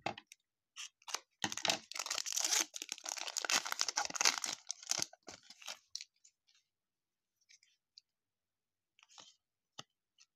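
Foil wrappers of 2020 Score NFL trading card packs crinkle and tear close by in a dense burst for several seconds, then give way to a few scattered soft rustles and quiet gaps.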